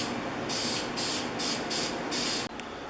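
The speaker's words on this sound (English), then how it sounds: "now the clear coat goes on to finish it up" Clear coat sprayed onto the parts of a Stanley No. 113 circular plane: five short hissing spray bursts in quick succession, close and loud, separated by brief pauses.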